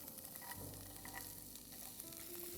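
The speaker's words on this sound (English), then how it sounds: "So we'll add in the carrots now" Chopped carrots go into a pan of frying onions, setting off a steady, moderately quiet sizzle with faint stirring scrapes throughout.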